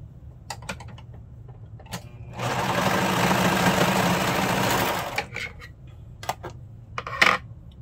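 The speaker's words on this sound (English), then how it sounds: "put the right sides together, and then we're going to sew the short side to create a loop." A sewing machine stitches the short side of a pajama shirt neckband into a loop, a steady close whirring run of about three seconds set between quieter handling clicks and taps.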